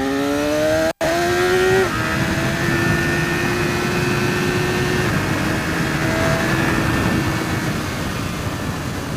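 A sport motorcycle, a 2014 Triumph Daytona 675R or BMW S1000RR, revs hard at full throttle on a test ride, a loud climbing engine whine that shifts gear, then holds a steady high drone under heavy wind noise.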